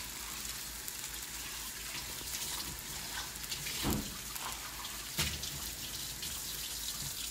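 Running water from a kitchen tap as something is rinsed under it, a steady continuous hiss with a couple of brief splashy surges.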